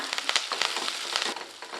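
Shallots, garlic and curry leaves fry in a pan with a denser, louder sizzle and scraping stir sounds, crackling continuously with no talk.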